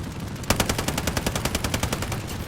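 A SAW light machine gun fires in Call of Duty Modern Warfare, a loud, steady burst of evenly spaced shots at a fairly slow cyclic rate that lasts about two seconds.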